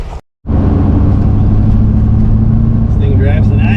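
A Chevy truck's engine runs steadily while driving, a loud, constant low hum with road rumble filling the cab, preceded by a brief cut to silence at the start.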